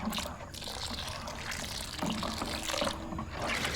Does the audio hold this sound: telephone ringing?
no